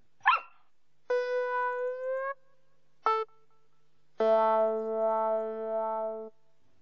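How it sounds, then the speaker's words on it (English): A little cartoon dog in a children's TV show barks in clean, tonal, electronic-sounding yaps: a quick yip, a long held bark, another short yip, then a longer sustained bark, alone with no talking. "It's little dog Fido."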